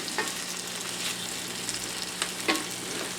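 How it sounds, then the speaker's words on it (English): Fresh onions and breakfast ingredients sizzling in a frying pan, a steady close hiss of frying with a few faint clinks and stirs. "Alright, we can start to see the sizzle going on here."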